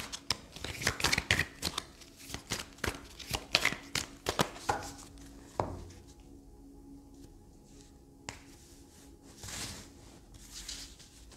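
Oracle cards being shuffled by hand, a rapid run of crisp riffling flicks and slaps for several seconds, then quieter sparse card handling with a few soft taps.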